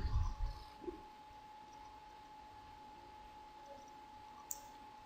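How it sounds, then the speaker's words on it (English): A computer mouse clicks the next button on a server during a software install: a couple of soft, brief clicks spaced a few seconds apart over a constant faint electronic hum. "click on the next button"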